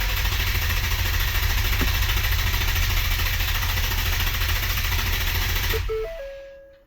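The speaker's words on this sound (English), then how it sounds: "Crank engine for 10 seconds." A Ford Explorer ST engine cranks steadily on the starter during a compression test, a loud continuous churning drone lasting about six seconds before it cuts off abruptly, followed by a few faint electronic beeps.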